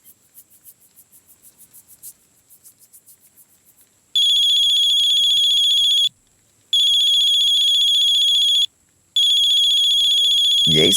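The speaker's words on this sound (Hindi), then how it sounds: "ये इस समय क्यों फोन कर रहा है?" A mobile phone ringtone plays in a tense scene of a Hindi-dubbed action film: a soft pulsing tone first, then two long, loud ringing bursts separated by a short pause.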